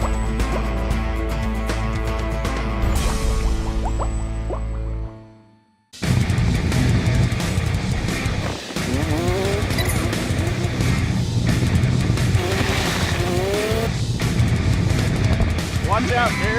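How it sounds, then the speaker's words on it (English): A 1972 Yamaha golf cart jacked up on ATV suspension and wheels drives along, its engine droning loud and close, cutting out briefly, then running on with rattles and bumps. "A 1972 Yamaha golf cart jacked up on ATV suspension and wheels."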